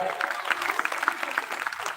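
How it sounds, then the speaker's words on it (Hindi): Dense, steady clapping from a crowd at a village Ramayana singing event in India fills the whole stretch, with a voice faintly present underneath. "जोरदार तालियां आप लोग बजाएं।"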